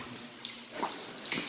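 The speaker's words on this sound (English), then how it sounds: "full stream coming down." Water streams and splashes down steadily inside a tunnel coated with uneven ice, a continuous broad wash with a few brighter splashy bursts, fairly close and moderately loud.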